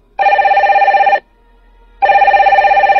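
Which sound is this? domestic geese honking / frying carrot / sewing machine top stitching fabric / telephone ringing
telephone ringing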